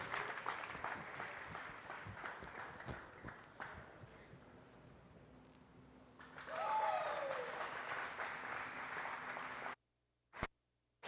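Audience applause rings out for exhibitors at a Zebu (Cebu) national cattle show judging gray females, a steady patter of clapping that fades in the middle, swells again, then cuts off near the end.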